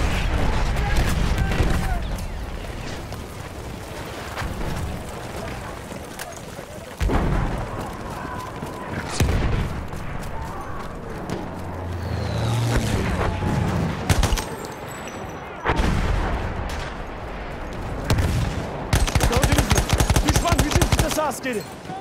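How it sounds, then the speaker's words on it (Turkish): Enemy machine gun fire in a Battlefield 1 multiplayer battle rattles in rapid bursts amid explosions and scattered shots, loudest in a dense stretch near the end, with in-game voices calling out between volleys. "Düşman makinalı tüfeği."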